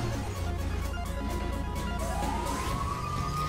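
An ambulance siren wails in GTA V as it arrives on scene, a rising tonal sweep emerging over a steady low engine and traffic rumble.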